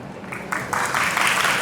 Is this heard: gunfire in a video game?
no